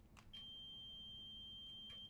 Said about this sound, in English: So it's a beep